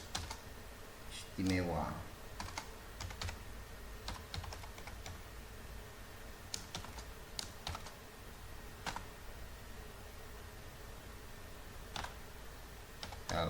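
Clicks of a computer keyboard while Python code is typed, scattered irregular keystrokes in faint sparse bursts throughout, with someone talking quietly alongside.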